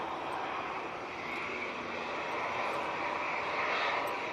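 An Emirates A380 airliner on its takeoff run, a steady broadband engine roar that swells slightly and holds, loud and continuous with no voices.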